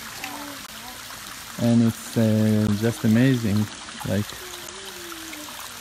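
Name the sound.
waterfall at Eternal Flame Falls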